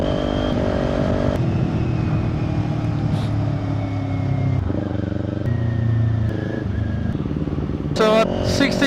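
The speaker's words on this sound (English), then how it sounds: "So at 60 kph, the wind noise creeps in" Steady rushing wind noise inside a Gille 873 Celeste forged carbon motorcycle helmet while riding at 60 km/h, mixed with engine drone and shifting pitch, loud and continuous.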